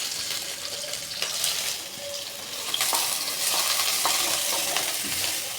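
Chopped onions and cumin seeds sizzle in hot oil in a pan while a dal with eggs is cooked, giving a steady, close frying hiss with a few soft stirring clicks and no talk.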